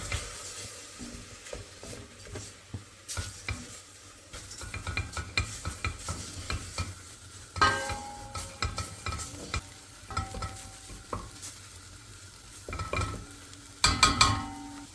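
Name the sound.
mushrooms and flour being sautéed and stirred in a pot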